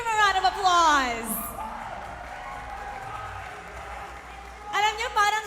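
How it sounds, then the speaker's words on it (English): A live audience at an MPL Philippines Mobile Legends esports broadcast cheers and applauds after a sweep: loud whoops open into a sustained crowd roar, with a commentator's voice speaking at the start and again near the end. "Let's give him a round of applause"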